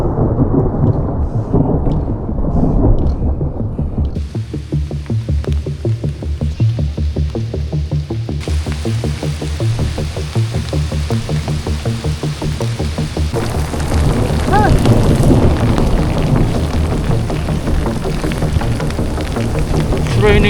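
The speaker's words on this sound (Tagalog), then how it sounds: "It's raining, man." A heavy thunderstorm rumbles with dense, steady rain pouring down close by, a loud continuous wash of noise that swells again toward the end.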